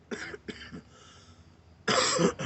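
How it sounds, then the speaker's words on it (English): A few short, rough coughs near the start, then a pause with faint background, followed by a louder, longer harsh cough fit at the end. "I'm only coughing, y'all, because I'm gonna show y'all why I'm coughing"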